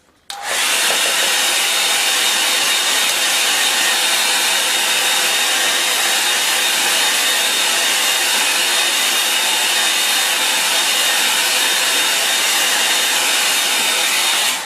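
A hair dryer blows steadily on a watercolour painting, a loud continuous broadband whoosh that starts abruptly after a brief click and holds constant with no talk over it.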